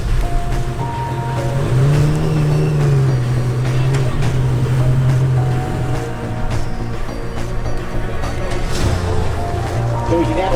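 Jet skis drag racing on water at a HydroDrags Nationals event, a steady loud engine drone with a rising whine, heard alongside talking throughout.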